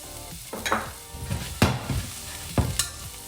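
Parsley stalks, red chilli, garlic and prawns hit smoking-hot oil in a pan, crackling and sizzling with three sharp bursts as each goes in, and stirring sounds between, close and fairly loud with no talk.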